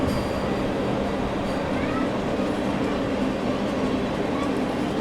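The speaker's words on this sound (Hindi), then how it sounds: "जयपुर आगरा वंदे भारत एक्सप्रेस।" The Jaipur–Agra Vande Bharat Express goes past as a continuous, loud, close rumble of rolling stock with a faint high whine above it, holding steady for the full five seconds.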